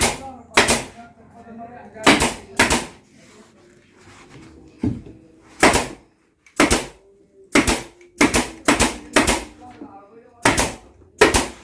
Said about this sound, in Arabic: وهدبسها.